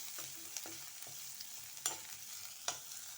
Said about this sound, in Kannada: ಇದು ಕೂಡ ಈರುಳ್ಳಿ ಕೂಡ ಫ್ರೈ ಆಗಿದೆ